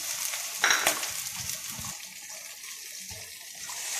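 Ginger garlic paste frying in hot oil with golden onions in a wok, a soft continuous sizzle with a brief louder burst as the paste hits the oil.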